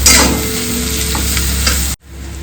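Onion frying in a pan, a loud, close, continuous sizzle with faint stirring scrapes, cut off briefly near the end before resuming.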